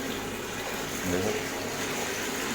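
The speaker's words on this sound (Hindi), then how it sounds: "पानी डालते हैं" Water is poured over an RO water-purifier membrane to wash it, a continuous splashing, running-water wash at close range that swells briefly in the middle, with a voice speaking over it.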